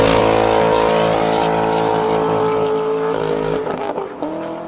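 2012 BMW M3 with a Kinney's Street Demon performance exhaust, a loud close engine roar with strong harmonic tone that holds steady and then drops off as revs fall, heard alone.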